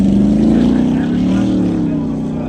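A racing powerboat in the Mildura 100 km river race roars past close and loud, its engine note sliding slightly as it passes, while a commentator talks over it.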